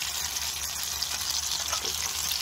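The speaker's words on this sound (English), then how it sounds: "This is the sizzle effect." Eggs, sausages and black pudding frying in a pan on an outdoor cooking setup give off a loud, continuous sizzle with dense crackling and popping, close by.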